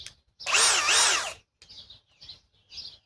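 A Ridgid hammer drill whines loudly in a long burst that rises and falls, followed by three shorter bursts as the clutch slips, with quiet gaps between.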